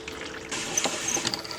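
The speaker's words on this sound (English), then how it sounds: "I'm just going to pour this from this bucket back into this one" Pottery glaze slurry pours from one 5-gallon bucket into another, a faint close trickle and splash with small knocks.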